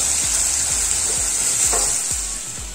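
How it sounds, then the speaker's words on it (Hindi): Onions fry on medium flame in a pan with a loud, steady sizzle, punctuated by rhythmic scraping strokes of a spatula. "प्याज को हम 2-3 मिनट मीडियम फ्लेम पे पका लेंगे थोड़ा सा"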